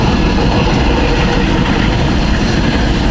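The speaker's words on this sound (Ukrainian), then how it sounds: "А тут у нас потяг отакий." A train passes near a riverbank pike-fishing spot in Ukraine, a loud, close, continuous rumble and rolling roar of wagons that fills the whole stretch without pause.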